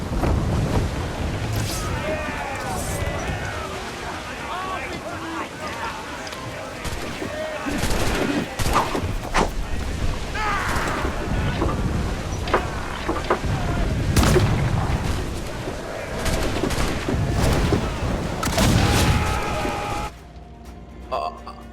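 Ship's guns boom in an Assassin's Creed Black Flag naval battle, heavy blasts going off repeatedly over wind and sea noise, with voices shouting between shots before the clip cuts to near quiet.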